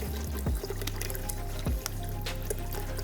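Water runs through a small pump into a batch of compost tea, a close, continuous splashing trickle over a low hum, with a couple of heavier gurgles.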